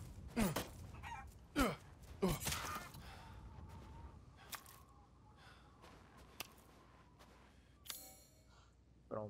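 Chickens in the survival horror game Resident Evil Village give a few sharp squawks and clucks near the start, followed by quieter rustling and scattered clicks, with one more brief squawk near the end.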